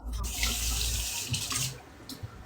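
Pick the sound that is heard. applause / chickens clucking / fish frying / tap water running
tap water running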